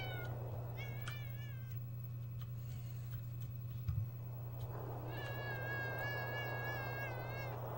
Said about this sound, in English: Aw, hi kitties.